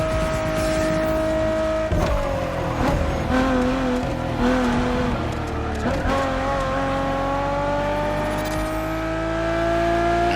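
A Ferrari Enzo supercar in the racing game The Crew Motorfest drives with a loud, sustained engine tone that shifts pitch through gear changes and revs, with brief tire noise, heard continuously up close.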